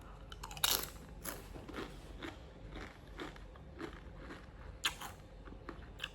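Crisp, irregular crunches of salty Chipotle tortilla chips being bitten and chewed up close, a sharp bite at the start and another near the end, with no talking.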